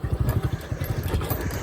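A motorcycle passes close by near Rathoa Haryam Bridge in Mirpur, Kashmir, its engine a loud, steady, throbbing putter with rapid rhythmic pulses throughout, and no voices.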